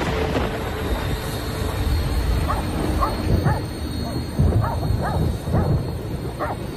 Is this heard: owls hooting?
no